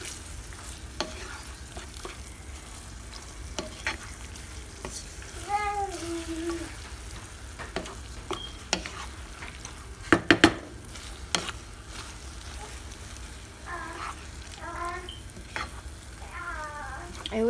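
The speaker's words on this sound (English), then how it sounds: "Make sure you keep breaking up the eggs and the meat." Eggs and meat frying in a pan for breakfast burritos, a steady low sizzle broken by repeated scraping and clacking of a utensil stirring and breaking them up, close-up with no talking.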